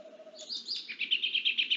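An owl giving a steady, light call, a faint series of soft repeated notes close by in a quiet indoor setting, with a low hum underneath.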